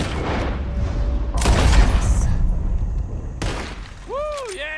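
Gunshots in Red Dead Redemption 2 as a shooting contest fires at bottles, with two loud broadband blasts and ringing decay, followed by bright glassy chirps near the end, heard over a steady ambient game bed.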